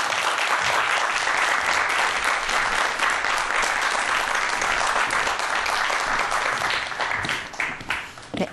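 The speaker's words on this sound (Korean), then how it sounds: "여러분 큰 박수로 맞아주시기 바랍니다" A lecture audience gives loud, sustained applause to welcome a speaker, dense clapping throughout that thins and fades over the last seconds.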